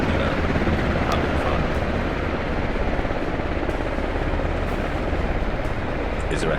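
A helicopter in the video game Squad, set on the Yehorivka map, produces a loud, continuous rotor thump and engine drone that fills the whole stretch, with a voice talking over it.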